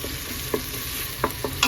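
Onions fry in a pan with a continuous close sizzle, broken by a few sharp scraping taps of stirring spaced unevenly through the short stretch, with no voices.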